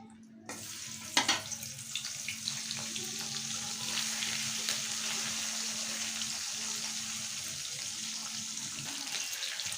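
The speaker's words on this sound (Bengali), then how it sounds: "এখন আমি ভেটকি মাছের মাথা ও কাঁটাগুলো ভেজে নেব।" Bhetki fish heads and bones drop into hot oil and burst into a sudden crackle, then settle into a continuous, fairly quiet sizzle with occasional spits and pops.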